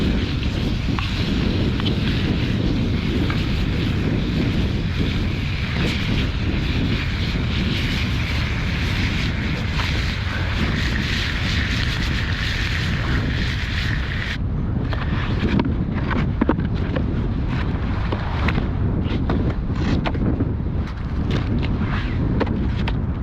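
Strong 50 mph gusts batter a tent pitched on a frozen lake in freezing temperatures, making a steady, loud, roaring rush throughout that eases slightly partway through, with no talking.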